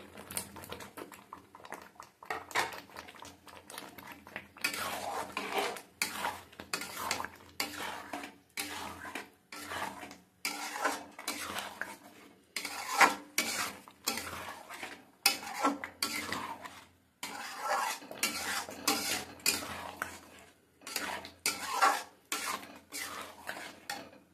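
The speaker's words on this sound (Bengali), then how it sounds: "মশলার পরে পালং শাক দিয়ে আমি ভালো করে পনির দিয়ে কষে নিলাম।" Paneer and spinach with spices are stir-fried in a pan, with a busy run of rhythmic scraping and clattering spoon strokes against metal over a faint sizzle, close and fairly loud, without speech.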